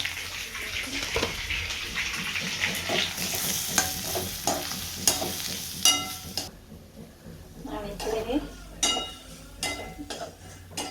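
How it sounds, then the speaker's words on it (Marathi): Semolina roasts in a pan with brisk scraping and stirring, grainy rustles and soft sizzling in an irregular rhythm, dropping quieter briefly before the strokes resume. "रवा भाजून घ्यायचा आहे याच्यामध्ये हे पहा रवा घातला याच्यामध्ये"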